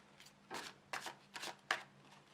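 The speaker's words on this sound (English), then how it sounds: "So I'm just going to shuffle the cards and put in your intention along with the cards." Tarot cards are riffled in four quick, crisp bursts with short pauses between them, soft and close in an otherwise quiet room.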